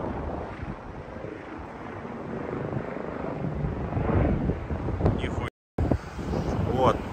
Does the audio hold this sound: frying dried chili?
no